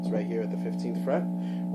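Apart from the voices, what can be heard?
No everyday noises stand out.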